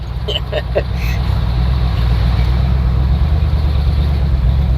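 A logging truck passes along a small-town road in Dobson, North Carolina, a loud continuous low engine rumble and road roar heard close from inside a moving vehicle, with brief clicks at the start.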